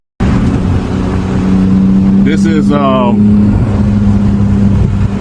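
A Porsche 911 GT3 drives under its own power with a loud, steady engine drone, its pitch rising and falling through a brief rev in the middle, while a voice speaks briefly over it.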